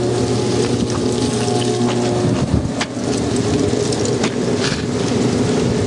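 A faulty furnace exhaust motor drones steadily with a rattling, whirring hum, loud and continuous, briefly shifting in tone midway before settling back.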